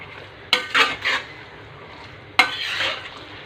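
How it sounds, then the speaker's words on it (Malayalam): Ghee pepper chicken gets mixed with coriander and curry leaves in a pan. Two bursts of spoon scraping and clatter come close up, separated by a faint quiet sizzle, with no voices. "ഇത് വീണ്ടും നന്നായിട്ടൊന്ന് മിക്സ് ചെയ്യുകയാണ്."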